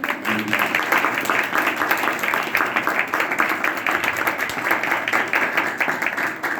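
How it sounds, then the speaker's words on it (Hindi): A Christmas church congregation breaks into hearty applause, a continuous wash of many hands clapping at even strength throughout, with no speech over it. "तो जोरदार तालियां"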